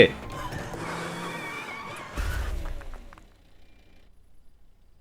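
A car skids in a crash, a loud tire screech and rumble under overlapping talk, ending in a low thump around two seconds before fading to quieter background.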